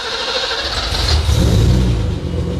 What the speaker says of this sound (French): Est-ce que vous voulez l'entendre, ce 6 cylindres BM?